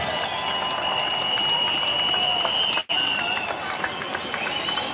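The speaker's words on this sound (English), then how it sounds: "Big cheer goes up there." A big crowd at a farmers' rally cheers and applauds loudly and continuously, a dense roar of clapping and shouts that cuts out for an instant midway.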